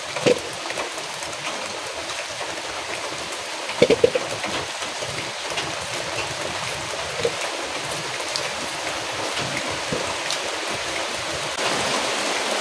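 Rain falling steadily in a village, a dense, even hiss of drops with a few louder splashes nearby and no voices.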